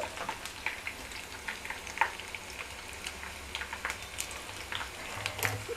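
Green chillies and dried red chillies frying in hot oil for pulihora avakaya pickle, a steady close sizzle broken by frequent sharp crackles and pops, with no talking.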